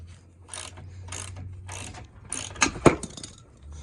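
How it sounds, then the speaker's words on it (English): A hand ratchet clicks in several short bursts while tightening screws on a bracket of a 1997 Rockwood Freedom pop-up camper, close and fairly quiet, ending in a few sharper clacks. "My ratchet foo needs work."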